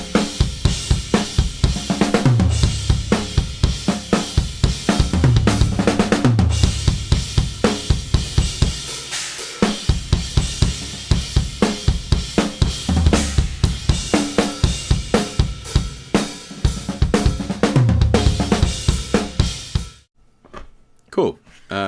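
A full drum kit plays a steady groove, raw multi-mic recording with kick in, kick out, snare top and bottom, rack, floor tom and hi-hat, punchy kicks, cracking snare, busy cymbals, loud and close, stopping abruptly near the end.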